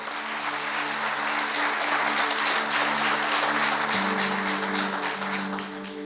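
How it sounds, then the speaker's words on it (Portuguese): A church congregation applauds steadily for several seconds, a dense wash of clapping with a faint sustained tone underneath that tapers slightly at the end. "Aplauda o Senhor."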